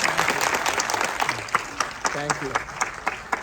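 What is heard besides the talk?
theatre audience clapping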